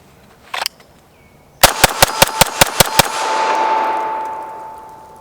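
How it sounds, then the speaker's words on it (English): A rapid string of eight sharp gunshots from an STI Staccato C compact carry pistol, loud and close, evenly spaced over about a second and a half with a long ringing decay trailing afterward; a single softer knock comes just before. "Today we're going to be shooting what has been dubbed the world's best shooting carry gun"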